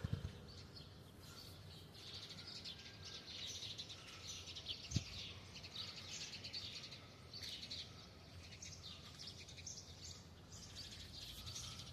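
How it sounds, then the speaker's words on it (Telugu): Birds chirp and tweet through a cool early-morning scene around 7 o'clock, a steady wash of small calls with a few louder notes, no speech, under constant soft background hiss. "పక్షుల కిలకిల"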